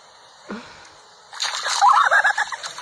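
Ducks near a backyard pool give a quick squawk followed by a burst of agitated quacking and flapping that grows louder and more chaotic, with some splashing.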